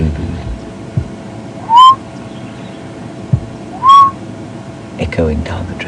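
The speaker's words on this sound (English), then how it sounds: "In the distance you can hear a lovely southern boo-boo" A southern ground hornbill calls in the distance at Djuma Game Reserve, two low booming notes a couple of seconds apart over quiet bush ambience during a morning safari drive, with a faint rustle near the end.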